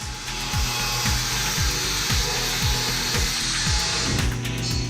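A power tool grinding off leftover welds on a custom welded steel bumper, a loud continuous whine with a rhythmic pulsing pattern of passes, no talking.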